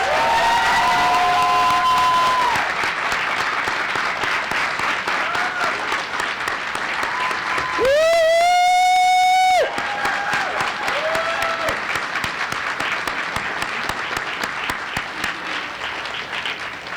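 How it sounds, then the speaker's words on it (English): Audience applause and cheering for women honorees at a Women's History Month celebration at Rutgers Newark, with a brief vocal whoop near the start and a sustained tone midway, loud and continuous throughout. "Please give our sheroes a round of applause."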